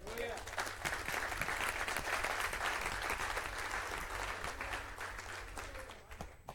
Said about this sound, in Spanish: Dele un aplauso a Cristo, hermano.